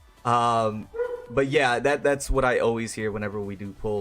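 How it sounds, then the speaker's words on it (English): Dog barking in the background of a home live stream, several bright yips and barks mixed with someone talking over them, fairly close and loud. "my dog's barking in the background."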